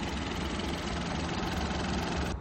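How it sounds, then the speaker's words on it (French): A 2019 Citroën C4 Spacetourer engine idles in a steady, even hum that runs unbroken and fairly close before cutting off abruptly near the end. "Donc voici le bruit du moteur"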